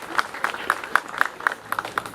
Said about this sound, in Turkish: Onları hep beraber güçlü bir şekilde alkışlamanızı rica ederim.